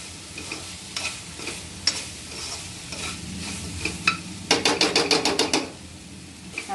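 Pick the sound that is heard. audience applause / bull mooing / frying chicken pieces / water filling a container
frying chicken pieces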